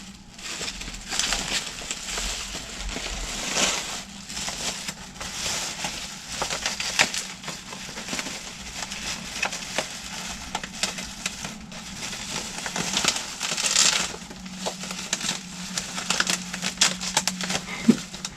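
Plant mail packaging being pulled apart and unwrapped up close, with continuous crinkling, rustling and crushing of paper and plastic, steady and moderately loud throughout.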